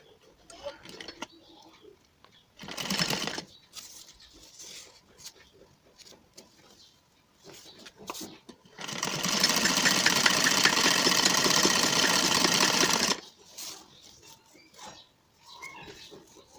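Sewing machine stitching plain, non-fusible buckram to salwar fabric, a steady loud whirring run of about four seconds after a brief earlier burst, with quiet handling sounds around it.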